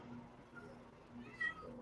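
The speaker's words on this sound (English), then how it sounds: "Cat says meow, by the way." A cat lets out one short, faint meow over a low background hum, heard briefly and from a distance.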